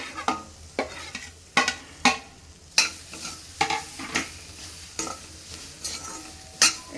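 Cheese is mixed into a pan of cheese corn with repeated scraping, clacking spoon strokes at an irregular rhythm, close and clear over a faint sizzle.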